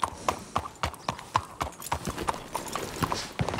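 A donkey's hooves clip-clopping on a hard surface as it arrives, a close, uneven run of knocks with faint voices and background noise behind.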